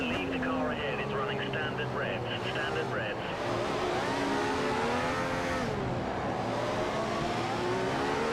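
In the F1 2015 racing game at Malaysia, a rival F1 car sweeps past on the outside, its high engine whine rising and sliding in pitch over steady engine drone, with a voice talking over it.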